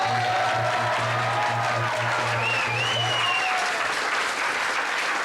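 A television studio audience at The Priory claps loudly and steadily for a guest, the applause filling the room evenly before easing slightly near the end, with faint tonal sounds underneath.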